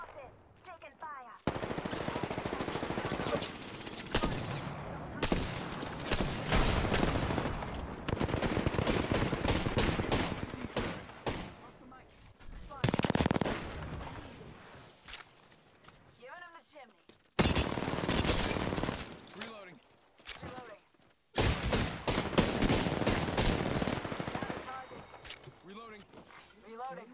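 Shooter video game gunfire comes as long stretches of heavy automatic fire and scattered shots, interrupted by quiet gaps, with game voice lines and player talk mixed throughout.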